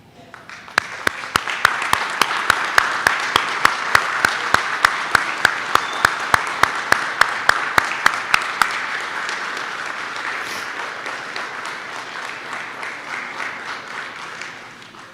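A graduating firefighter recruit class stands and applauds their families at a certificate ceremony, a broad, sustained round of crowd clapping with sharp individual claps cutting through, building quickly and fading gradually over about fifteen seconds.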